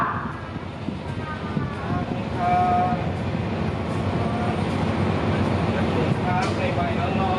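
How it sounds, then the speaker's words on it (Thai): Ordinary passenger train no. 254 pulling out of Ratchaburi station in Thailand, a steady rumble of rolling wheels and carriages with faint squeals and tonal whines, a distant voice audible over the continuous noise. "ขบวนรถธรรมดาขบวนที่ 254ออกจากสถานีราชบุรีไปแล้ว"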